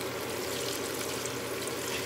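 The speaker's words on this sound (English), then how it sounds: "I'm just gonna go in with a little water to the side of the pot," Water poured into the side of a cooking pot of Jamaican-style oxtail, a steady soft splashing trickle that runs evenly throughout, close and fairly quiet with no talking.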